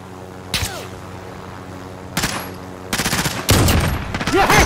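Gunfire in a helicopter combat video game: a sharp shot near the start, another around two seconds, then a rapid burst of repeated shots toward the end over a steady engine-like drone.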